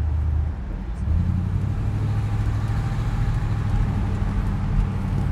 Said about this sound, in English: I actually really like the way this car sounds